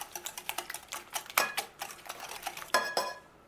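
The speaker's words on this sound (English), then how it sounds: "Once you add sugar, beat it again" Eggs and sugar beaten by hand in a bowl for caramel custard: a quick run of sharp clinking whisk strikes against the bowl, close and steady, with a couple of louder knocks and no voices.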